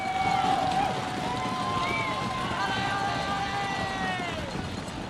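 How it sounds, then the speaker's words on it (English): A roaring crowd lines the course at a 2023 UCI Cycling World Championships time trial or road race, with a dense wash of cheering pierced by rising whistles and horn-like tones, loud and close, with voices mixed in. "if you've ever wondered how loud it is to be at a time trial or road race, listen to it."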